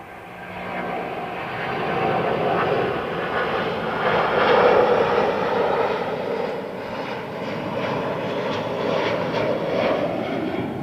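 An American Airlines Boeing 777-200 at Heathrow passes as a loud, continuous jet roar, building over the first seconds, peaking in the middle and sustaining a broad rushing engine noise to the end.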